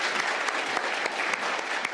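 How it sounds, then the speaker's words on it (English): A crowd claps at a book festival panel, with brisk, dense applause and a few sharper individual claps standing out, steady for a couple of seconds. "We can clap again."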